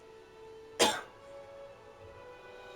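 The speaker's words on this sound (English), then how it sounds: "Still got a little bit of a cough, guys, so apologize." A single short, close cough from a man, sharp and loud against a quiet background with faint steady music, then nothing more.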